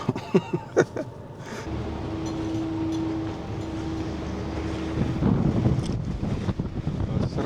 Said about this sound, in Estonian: Raiskus on tuul, siin üleval on ikka tuul.